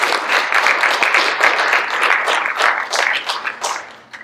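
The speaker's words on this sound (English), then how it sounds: "We could have a round of applause for them." Steady round of applause from an audience at a board of education meeting, many hands clapping densely and continuously for about four seconds before tapering off slightly at the end.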